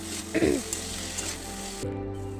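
Tengra fish frying in a pan while being stirred, giving a steady, even sizzling hiss with a brief scraping stir near the start.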